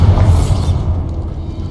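A Bombarda spell explosion in Hogwarts Legacy lands as a loud, close, low boom with a crackling rush that quickly fades into a rumbling tail, with no voices over it.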